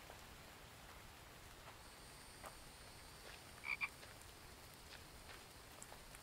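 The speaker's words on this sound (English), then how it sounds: "a lot of frogs" In the survival game The Infected, frogs croak faintly in a dim ambience that sounds like soft rain, with a short cluster of louder croaks near the middle and no speech.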